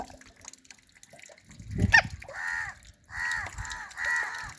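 Crow cawing near rescued crow chicks, three loud harsh caws in a row close by after a brief rustle and knock, with no talk.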